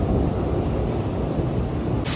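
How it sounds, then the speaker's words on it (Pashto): A loud, continuous rumble of thunder during a heavy storm with rain over Kandahar city, a dense low roar filling the whole stretch without any voices. "تقریبا 10-15 دقیقې کېږي چې دغه دوامداره برېښناوې دي او تالنده ده."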